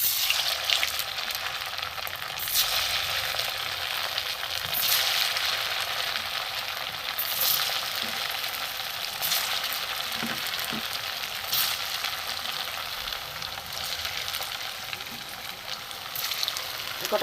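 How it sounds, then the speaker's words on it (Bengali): Puffed-rice pantua sweets fry in hot oil, giving a loud, dense, continuous sizzle close up, with faint crackles rising and falling throughout. "এগুলো ভাজা হোক, দেখাচ্ছি।"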